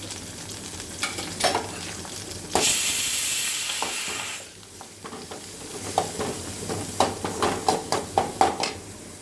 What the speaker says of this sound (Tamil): வெங்காயம் வெங்காயம் போட்டுக்கலாம் கருவேப்பிலை கொஞ்சம் கொத்தமல்லி தலை